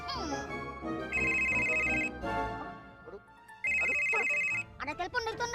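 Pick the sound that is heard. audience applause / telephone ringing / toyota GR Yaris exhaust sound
telephone ringing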